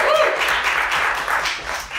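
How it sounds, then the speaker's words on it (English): Dense clapping from a crowd fills the room, steady and fairly loud, with faint voices mixed in. "Let's give it a round of applause."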